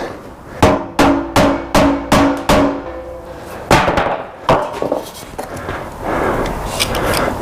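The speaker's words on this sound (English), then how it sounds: "Or try the hammer and wooden block trick." Sharp hammer blows strike a wooden block during Porsche Boxster 981 GTS sports exhaust repair, a quick run of about six ringing taps, then a few more scattered knocks, with some clatter afterward.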